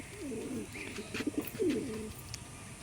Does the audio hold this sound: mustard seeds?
no